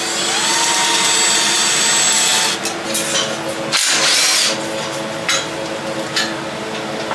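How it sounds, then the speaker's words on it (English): Power tools, including a 3/8 impact wrench with a 9/16 socket, working on a 427 small block Chevy in an engine shop, a loud steady whine throughout, broken by short rattling impact bursts and brief pauses. "Yes, I'm using power tools."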